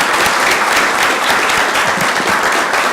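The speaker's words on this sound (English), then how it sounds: "Let's give them another round of applause." A city council meeting audience applauds elementary school students, a loud, close, sustained wash of clapping from a full room with no talking over it.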